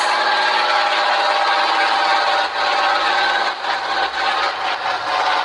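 A new truck's engine roars steadily while driving, a loud, dense, unbroken drone that fills the cabin with only slight dips in level, with no talking.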